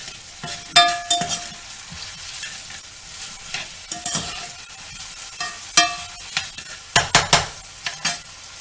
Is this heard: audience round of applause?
no